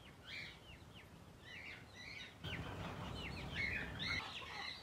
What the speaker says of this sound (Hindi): ये इसमें प्योर तुर्किश हिंड के बर्ड हैं जी